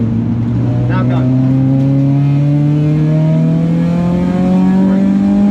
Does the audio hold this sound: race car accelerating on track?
yes